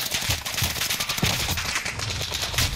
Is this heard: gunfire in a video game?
yes